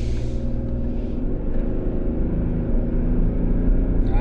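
A 2022 Toyota Tundra pickup with a turbocharged V6, towing 7,000 pounds, pulls onto a highway with a steady, deep engine and road rumble heard from inside the cab, rising slightly toward the end.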